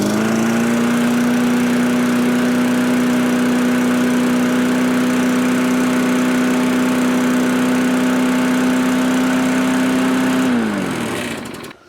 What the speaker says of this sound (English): That lawnmower has not sounded that good in years.